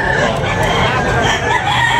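Gamefowl roosters at a market in Tabunok, Talisay, Cebu crow through a short, crowded stretch, their overlapping calls rising over a steady bed of crowd noise and nearby voices.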